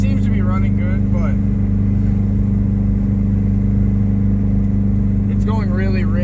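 The engine of a Mazdaspeed 3 with methanol injection drones loudly and steadily during a test pull. A voice talks briefly over it at the start and again near the end.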